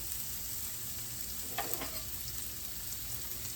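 Butter sizzles steadily in a pan with vegetables meant for eggs, a soft continuous frying hiss with a couple of brief clicks from a utensil midway.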